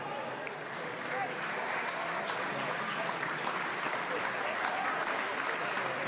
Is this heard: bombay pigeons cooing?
no